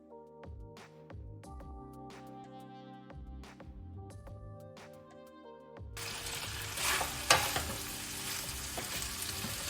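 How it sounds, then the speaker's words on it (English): Beef pieces sizzle and fry in a pan with a glossy stir-fry sauce; soft clinks and stirring come first, then a loud, dense sizzle fills the second half, close up. "Now let that stir for about 25 seconds."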